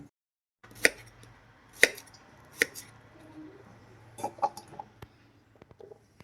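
Knife chopping ginger, curry leaves and green chilli on a board for traditional Angamaly mango curry, several sharp separate cuts, close and fairly loud, with quieter soft taps and scrapes between them.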